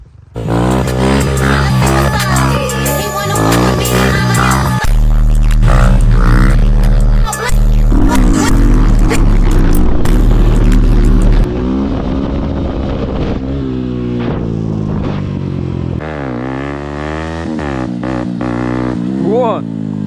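A Kovi Advance 2 motorcycle engine revs loudly during stunt practice, its pitch rising and falling with throttle blips and gear changes throughout, close by, with voices shouting over it.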